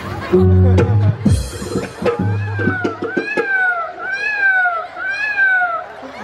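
At a Home Minister game show event in Dhule, a voice imitates a cat with a series of rising-and-falling meows, loud and close, after some shouted talk from the people there.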